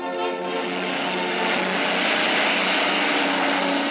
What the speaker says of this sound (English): Every available plane was pressed into service to carry food and the necessities of life